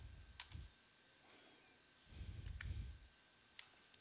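Keystrokes on a computer keyboard entering a command during server configuration: a few scattered, fairly quiet clicks with brief pauses and low background rumble, no talking.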